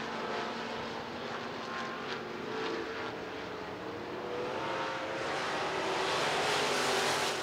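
Stock cars race around the RPM Speedway dirt track in a B feature, engines roaring loudly and continuously as the pack passes, with no voices heard.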